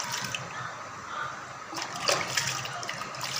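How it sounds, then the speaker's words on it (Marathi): Mangoes being washed in water for aamras, heard up close as steady splashing and swishing of liquid, with a brief louder slosh partway through. "आंबे छान असे मस्त धुवून घ्यायचे पूर्णपणे"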